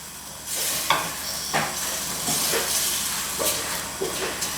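Onions sizzle and fry in a hot pan with butter for chicken curry, a steady close hiss broken by several scraping stirs of a utensil.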